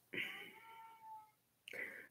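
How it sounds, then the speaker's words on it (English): A pet cat named Esther meows insistently indoors, one drawn-out wavering meow followed by a second sharp meow, close and fairly clear over a quiet room. "my cat won't shut up"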